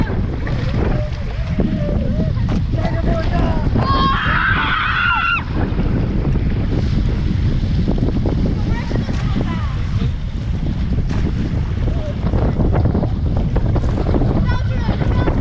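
Strong wind buffets the microphone with a constant low roar, while goose-like honks and faint distant voices drift in through the gusts.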